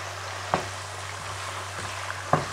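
Chicken pieces frying in oil over medium heat make a soft, continuous sizzle, broken by two sharp spattering pops.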